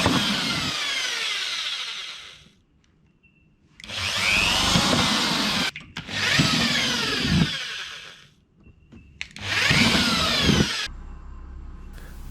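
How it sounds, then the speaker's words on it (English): Loud power drill whirring in three long bursts, separated by short pauses, with a rising and falling pitch as it drills screw holes in a toolbox. "Now I can get the drill to drill the holes."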